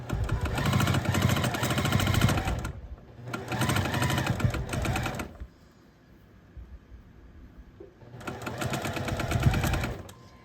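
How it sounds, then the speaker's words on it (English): A sewing machine stitches along a paper-pieced quilt block in three loud, steady runs of close mechanical whirring, each lasting a couple of seconds, separated by brief near-silent pauses. "I'm gonna sew along the length of this block"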